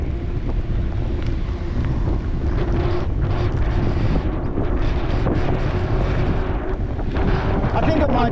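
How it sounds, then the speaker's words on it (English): Strong gusting wind ahead of Cyclone Alfred, heard outdoors from a moving bike as steady loud buffeting roar across the microphone, unbroken throughout. "The wind is picking up a little bit, but certainly nothing crazy."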